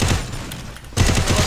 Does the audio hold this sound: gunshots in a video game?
yes